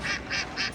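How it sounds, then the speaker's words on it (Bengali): Ducks on a pond give three quick, evenly spaced quacks at moderate distance, clear against a quiet background. "পুকুরে অনেক হাঁস"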